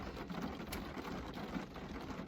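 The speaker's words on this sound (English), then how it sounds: "I hope the rain not too loud for y'all." Steady, dense hiss of heavy rain pouring down, constant and even throughout with no voices.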